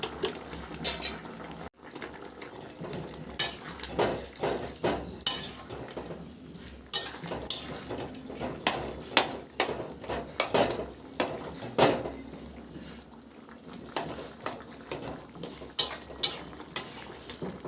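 A spatula scrapes and clinks against a pan while potato and pointed gourd curry with ghee is stirred, giving irregular sharp knocks and scrapes over a soft low sizzle, close up with no talk.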